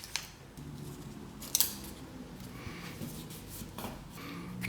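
A pair of scissors snips through a printed paper label for a plastic tag holder on an IKEA Trofast storage box, with a few quiet close-up cuts and one sharper snip among soft handling noise.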